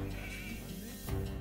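Sheep in Age of Empires 2 give a faint, short bleat, alone and quiet within the game's soft background.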